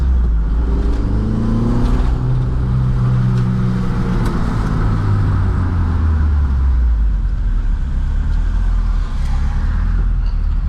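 An Mk2 car on Toyo R888R tyres pulls hard through second gear, the engine droning loud and close as revs rise and swell steadily over the whole stretch.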